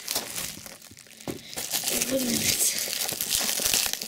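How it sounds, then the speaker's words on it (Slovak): A well-packed parcel being unwrapped, its packaging crinkling and rustling steadily at close range, growing busier and louder toward the end. "OK, ja rozbalím. On je dobre zabalený."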